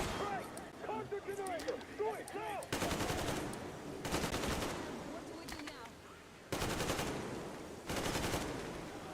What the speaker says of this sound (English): you shoot until you no longer can shoot or enemy is dead